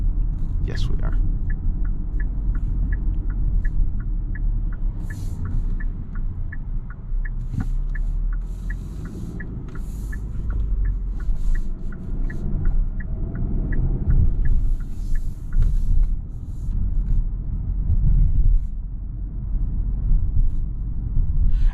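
A 2022 Kia Sorento X-Line EX AWD SUV drives along a road, heard from inside as a low, steady cabin rumble, with a regular ticking from a turn signal, while someone talks over it.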